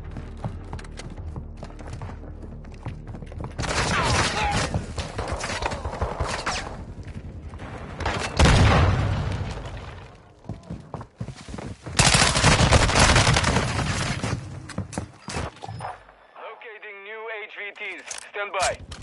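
Loud bursts of automatic gunfire in a military shooter video game, coming in waves amid radio chatter and spoken callouts, ending with a crackly radio transmission.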